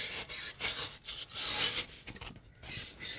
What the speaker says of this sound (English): So you can hear me cutting.